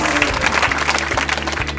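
An audience at an evening awards ceremony for public works honours applauds, a dense, steady wash of many hands clapping close and fairly loud for the whole brief moment.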